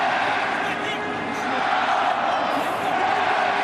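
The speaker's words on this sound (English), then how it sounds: "Crowd chanting in rhythm now." Stadium crowd at a 1998 CFL West Semi-Final football game in Edmonton, a dense, loud roar of many voices chanting steadily throughout, with a commentator's voice over it.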